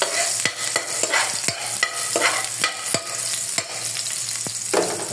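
Garlic, onion and ginger are stirred and fried in a pan for ginataang kalabasa with crab, with a steady sizzle broken by repeated sharp scraping strokes of a spoon against the pan.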